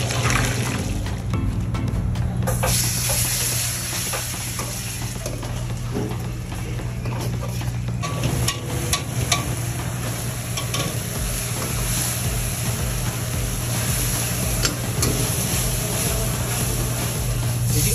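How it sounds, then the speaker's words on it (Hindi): Crispy vegetable pakoras deep frying in hot oil, giving a steady, close, loud sizzle with bubbling and faint clinks of stirring throughout, with no talk over it. "क्रिस्पी वेज के जो पकौड़े रहते हैं उनको अच्छे से एकदम फ्राई किया जा रहा है"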